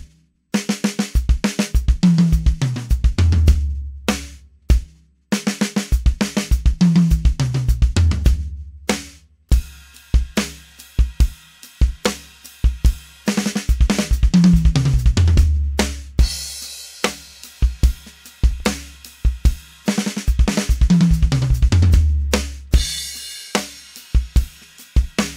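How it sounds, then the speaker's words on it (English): A drum kit plays repeated patterns of rapid bass drum doubles and snare hits, with crashing cymbals in later passes, loud and close with brief gaps between phrases. "I'll put a bass drum on beat one of the first bar and then a snare drum hit on beat four"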